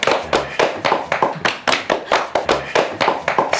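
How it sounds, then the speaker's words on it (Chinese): About a dozen sharp hand claps from a small group at a celebration, in a quick, even rhythm, close and loud. "对呀，鼓掌庆祝一下，快呀！"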